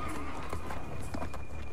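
A horse gallops in Mortal Kombat 11, quick rhythmic hoofbeats pounding over a busy game soundtrack with a voice speaking briefly in the background.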